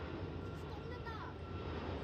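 An airliner takes off or lands at Incheon International Airport, a steady, broad jet roar holding at moderate loudness from some distance.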